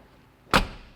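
Door of a 1996 Ford truck shutting in one solid, close thump with a short trailing rattle against a quiet background.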